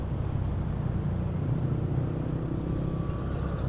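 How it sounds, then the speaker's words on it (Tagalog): Steady road traffic of many cars and motorcycles in Manila, heard as a continuous low rumble of engines with a faint passing whine, moderately quiet and without speech. "Ang daming sasakyan na."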